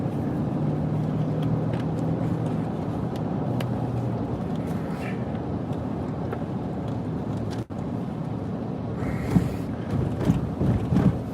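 A car driving a street near home in Saudi Arabia past an old military base, steady engine and road rumble from inside the cabin with wind noise, continuous and fairly loud.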